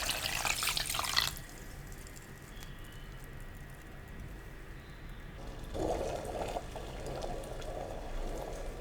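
Water runs from a tap in a strong, steady stream as a cup of water is measured for sugar syrup, stops, then a gentler pour follows near the end.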